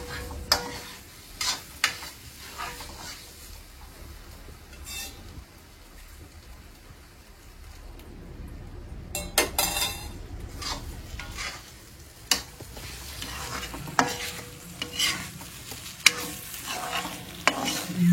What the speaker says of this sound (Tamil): நல்லா செவக்க வரணும். அது வரைக்கும் கிளறி வரணும்.